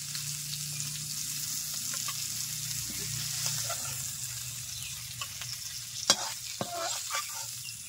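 Shrimp frying in oil, seasoned with salt and turmeric, a continuous soft sizzle with a few stirring clinks, quiet and close, no talk.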